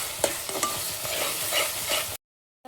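Chicken curry masala with salt and turmeric sautés in hot oil, giving a continuous close sizzle with scraping stirs, then cuts off abruptly.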